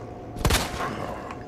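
A short, sharp burst of gunfire from a handgun in the video game Resident Evil 2 Remake, two or three loud close shots fired in quick succession, fading into a brief echoing tail with no talking.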